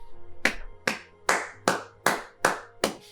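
Seven sharp hand claps ring out at a steady, unhurried pace, each loud and distinct with a quick decay, over a faint background hum and no talking.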